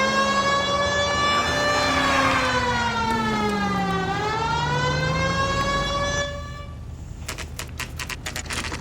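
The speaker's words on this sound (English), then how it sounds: "People might move out of the way quicker if you use the siren." A police car siren wails loud and close in a rising and falling sweep for about six seconds, then cuts off, leaving faint clatter behind.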